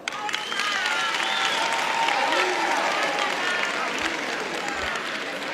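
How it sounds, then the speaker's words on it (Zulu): An audience at a Wits Zulu Society event bursts into dense, sustained applause, many hands clapping together steadily and loudly for several seconds. "Cela nishaye ihlombe."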